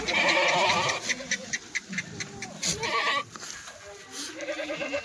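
Kathiawadi goats bleat repeatedly at close range, loud wavering calls coming in several bursts among other farm noise, with people talking in between.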